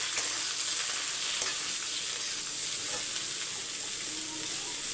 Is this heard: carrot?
yes